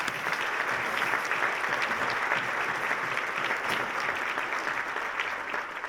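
Sustained audience applause fills a hall at a county government event honoring commissioners, a steady dense wash of clapping from a large crowd throughout, no voices on top.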